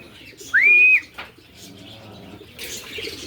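A racing pigeon arriving at its loft after a derby race from Sorsogon, with a sharp whistling swoop and wing flutter close by, followed by soft rustling and a burst of flapping.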